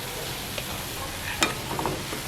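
Plantain sambal cooking in a pan over low heat, a faint steady sizzle with a few light stirring scrapes and one sharper clink, quiet and close.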